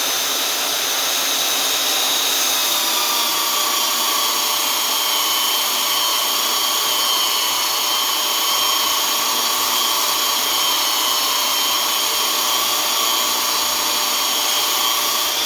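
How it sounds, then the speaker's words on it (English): A power sander works across a tree cookie, a cross-section wood sample, in a loud, continuous, steady whirring hiss that runs unbroken throughout with no talking. "It's good to rotate it while you sand."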